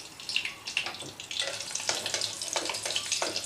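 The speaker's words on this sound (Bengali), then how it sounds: "এবার এই তেলের মধ্যেই আমি একটা চেরা কাঁচা লঙ্কা আর একটু কালো জিরে ফোড়ন দেব।" Nigella seeds and a slit green chili tempered in hot oil over a medium gas flame for a Bengali potoler posto, giving a steady, close crackling sizzle with scattered sharp pops throughout.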